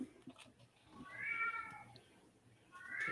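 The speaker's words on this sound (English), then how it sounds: "Sounds like the cat agrees." A cat meows twice, a drawn-out mid-pitched cry followed by a shorter one, moderately close against a quiet room background.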